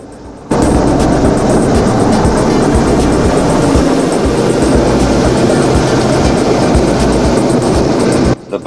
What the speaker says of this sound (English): The helicopter hovers in position behind the boat